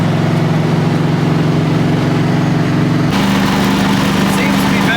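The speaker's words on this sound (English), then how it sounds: "It's definitely misfire." A hot rod's engine idles loudly and close with a misfire, its uneven throbbing rumble running continuously, while talk can be heard over it.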